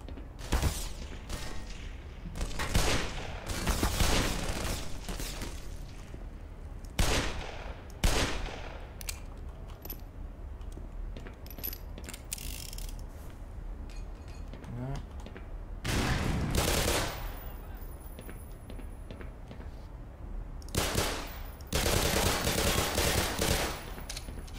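Bursts of automatic weapon fire in the first-person shooter game Black Mesa, repeated loud volleys separated by quieter stretches of mechanical clicks and reloading, with someone talking between shots.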